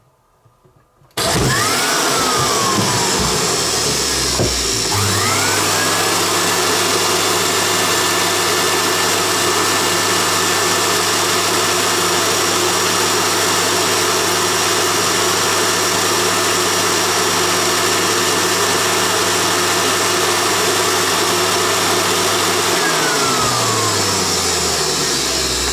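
Rainbow D4G vacuum cleaner motor, reported faulty, switched on with a sharp start and then running loud and steady for about twenty seconds, a droning hum with a rising then falling whine, before spinning down at the end.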